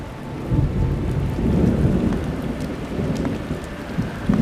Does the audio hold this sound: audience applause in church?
no